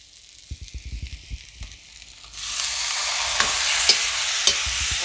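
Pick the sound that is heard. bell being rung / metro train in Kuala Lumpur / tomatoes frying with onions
tomatoes frying with onions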